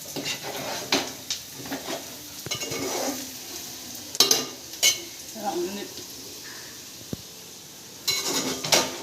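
Chicken frying in oil in a pan, a soft sizzle broken by bursts of stirring, scraping and clinks of a utensil against the pan, with brief quiet gaps between.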